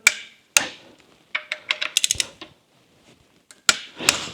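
A torque wrench tightens the connecting rod cap bolts on an International Harvester Scout engine with a series of sharp metallic ratcheting clicks and clacks, close and loud, in uneven bursts separated by brief pauses.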